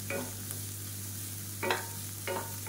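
Mixed vegetables sautéing in a pan, a soft continuous sizzle broken by three distinct stirring scrapes near the start, middle and end, with a low steady hum underneath and no talking.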